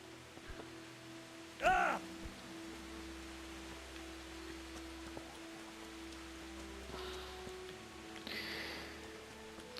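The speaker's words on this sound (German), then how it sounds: "Es regnet ja gerade so schon." Steady soft rain in the video game Kingdom Come: Deliverance patters in the background, faint and continuous, with a sharp knock early on and a few brief rustles later.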